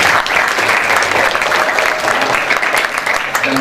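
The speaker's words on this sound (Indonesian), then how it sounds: "Tepuk tangan dulu buat kalian." A school audience at a religious talk claps together, giving a loud, dense burst of applause that holds steady for a few seconds.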